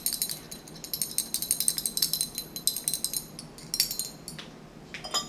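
A rod stirs acid into rust-colored precipitate in a test tube, giving quick, bright glassy clinks and scraping taps in a steady rhythm, close and clear, with no speech.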